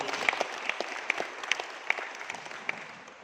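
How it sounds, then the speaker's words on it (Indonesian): Applause from an audience at a Karang Taruna youth organisation event in Mojokerto, a steady patter of many hands with a few sharper individual claps standing out, fairly faint and fading slightly toward the end. "Ibu Dr. Ina Panawati Sumedi, tepuk tangan untuk pembinanya."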